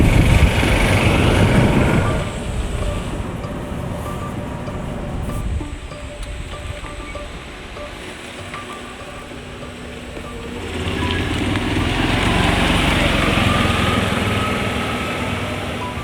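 A combustion-engine golf car labors up a hill. Its loud, buzzing motor drone is near and continuous, dips for a few seconds midway, then swells again as the climb resumes. No speech is heard.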